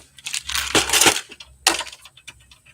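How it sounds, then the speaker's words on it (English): Small black oxide trim screws from an assortment kit jingle and clatter as fingers rummage through them, two loud bursts of metallic rattling with quieter clicks between. "Screws. A handy dandy trim screw assortment."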